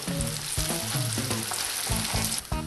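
Chicken wings for buffalo wings deep frying in oil, a dense, loud bubbling sizzle that carries steadily throughout with irregular crackles and a low rumbling undertone.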